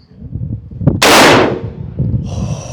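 A single loud, close 12 gauge Mossberg Maverick 88 shotgun blast cracks out over outdoor background rumble, followed by a brief decaying echo.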